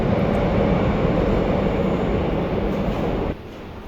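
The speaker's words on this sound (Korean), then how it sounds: "오늘은 지하철 1호선 신설동역에서 환승을 하려고 합니다" A Seoul subway Line 1 train at Sinseol-dong station, a loud steady roar and rumble of the moving train that drops off abruptly near the end.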